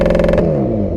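A car exhaust blares during a launch-control hold at around 5,000 rpm, loud and close with a rapid pulsing rasp that drops away sharply, leaving a lower settling drone.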